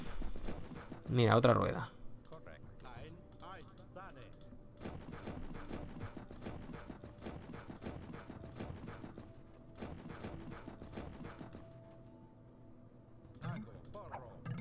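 Horse hooves clip-clop in the Age of Empires II HD strategy game, a steady stream of game sound effects running under continuous talk.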